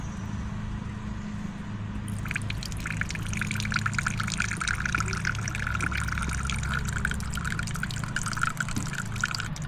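Fuel from a Suzuki DF25A outboard's fuel filter drains steadily into a catch container, a continuous close trickle that brightens into a fuller splashing pour after the first couple of seconds.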